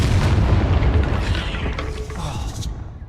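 A loud rumbling blast from a fire-curse spell in a wizarding adventure game, a heavy boom that fades out with some creaking, clattering debris over about three seconds.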